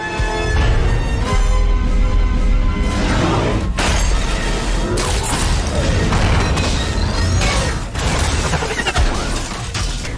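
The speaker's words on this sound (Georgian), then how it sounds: "რატომ ვერავინ გაიგონა უკან დრონის აფეთქების ხმა?" A drone explodes in the 2019 film Spider-Man: Far From Home. Loud booms and shattering crashes come with sweeping whooshes and dense mechanical debris noise over a driving score.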